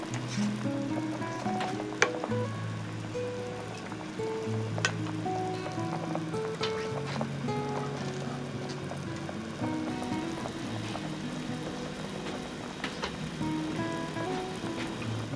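Water boils steadily in a pot of Vietnamese braised pork, a close, continuous bubbling and crackling simmer with small pops and faint clinks throughout.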